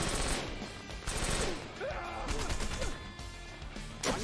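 Video game gunfire from Wanted: Dead comes as dense bursts of rapid shots and crashes in a busy combat scene, loud and continuous across the whole moment.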